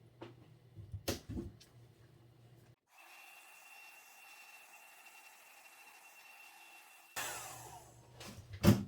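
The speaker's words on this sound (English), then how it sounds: "Hair dryer is your friend when you're painting like this." A steady mid-pitched whir of a hair dryer drying acrylic pour paint runs for several seconds, fairly quiet, with a few brushing and handling sounds before and after.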